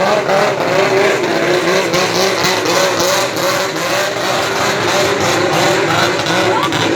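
A loud, steady engine roar of a fast boat racing by, dense and continuous with a rushing, churning texture throughout.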